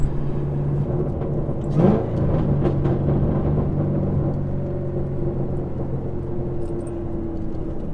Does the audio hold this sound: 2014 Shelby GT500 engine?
yes